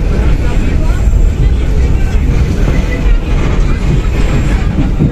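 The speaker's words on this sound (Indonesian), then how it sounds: "kereta api Pangrango akan segera berhenti dan tiba di stasiun Cigombong" Pangrango passenger train running on rails as it nears Cigombong station, a loud, close, continuous low rumble with rolling rail noise and a faint voice in the background.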